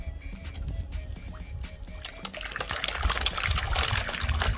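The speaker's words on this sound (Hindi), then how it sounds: "आप बस पानी की आवाज़ सुने" Water flows steadily at a fish pond in Al Baha, Saudi Arabia, a close, continuous rushing and splashing that grows louder and brighter toward the end.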